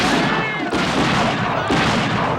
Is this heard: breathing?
no